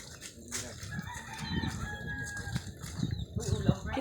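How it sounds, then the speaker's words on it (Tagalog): Chickens cluck steadily outdoors while a rooster crows, with faint voices and background noise underneath. "Kita nga niya, oh, mga manok."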